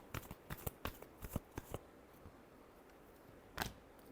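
Tarot cards shuffled by hand in a run of quick, crisp riffling bursts, then a pause of near silence before one last short shuffle; close and fairly quiet, with no talking.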